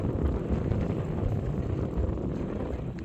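Strong wind buffets the microphone on a fishing outing, a steady low roaring rumble that stays loud and unbroken throughout, with no voices.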